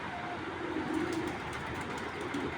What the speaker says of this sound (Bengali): এটা হলো অরিজিনাল ক্লাবের রেসার কবুতর ভাই